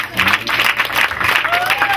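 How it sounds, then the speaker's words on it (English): A church congregation clapping together during a worship service, dense and steady hand claps with a voice and musical tones sounding over them. "Clap hand tonight."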